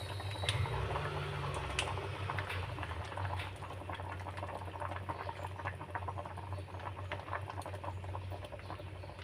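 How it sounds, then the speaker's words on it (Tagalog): Tomato sauce going onto chicken in a multi-cooker, a steady wet bubbling and sizzling patter at close range with a low appliance hum underneath, continuous and without talk. "lagyan po natin siya ng tomato sauce"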